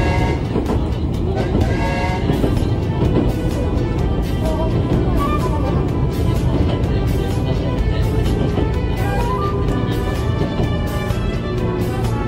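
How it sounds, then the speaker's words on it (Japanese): Steady rumbling of a 205 series electric commuter train rolling into Tsurumi station, with continuous wheel and motor noise, a faint tone and some voices mixed in. "電車は終点鶴見駅に到着をいたします"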